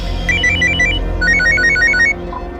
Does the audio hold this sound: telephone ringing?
yes